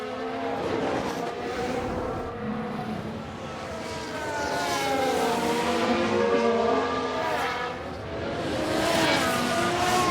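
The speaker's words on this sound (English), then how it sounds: "there, that's the lockup" Tyre lockup during a race in F1 Manager 2022, heard among several engine tones sweeping up and down in pitch as cars pass, steady and loud, with no voices.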